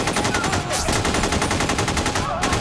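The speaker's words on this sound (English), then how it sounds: "Oh, he shot him in the leg." Rapid automatic gunfire from the North Hollywood shootout, a dense, continuous burst of loud shots crackling without pause, with faint voices briefly audible underneath.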